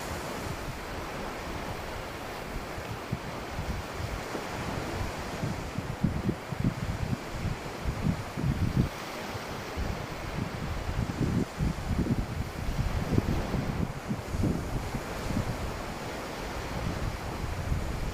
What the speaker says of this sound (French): Laissez le bruit des vagues vous apaiser, vous détendre.